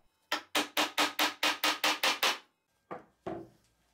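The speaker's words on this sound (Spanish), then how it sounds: "Así puedo embutir el punto de arrastre con ayuda del martillo, asegurándome de que la punta entra del todo en la madera" A hammer drives a lathe drive center into wood: a quick, even series of about nine sharp strikes, then a pause and two final blows, close and without speech.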